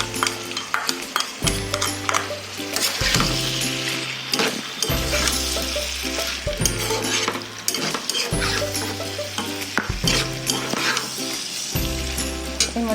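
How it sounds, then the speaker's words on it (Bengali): A spoon stirs cashew and raisin paste into a sizzling pan of frying food for dudh paneer, with steady crackling and scraping heard close up over rhythmic background music. "এরপরে আমি দেব এর মধ্যে কাজু আর কিশমিশ বাটা।"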